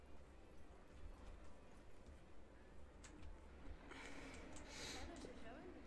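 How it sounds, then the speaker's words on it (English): A horse in the theme-park game Planet Coaster clip-clops with soft, quiet hoof beats under a low rumbling background, while a person talks over it. "Horse."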